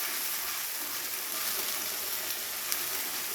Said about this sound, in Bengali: এরপরে মশলাটাকে একটু কষাবো তেলের সাথে।